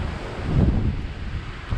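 Gusty wind roaring at a riverside campsite during stormy weather, a short loud rumbling buffet that swells and eases without any talk.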